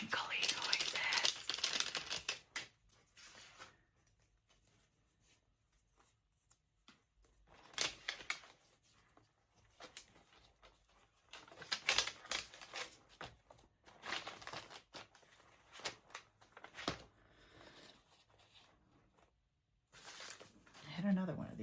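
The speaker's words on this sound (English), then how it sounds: "Some crinkly noises." Crinkly paper and trash materials rustle and crumple in close, scattered bursts while someone assembles a junk journal, with soft handling taps and quiet whispering between the louder crinkles.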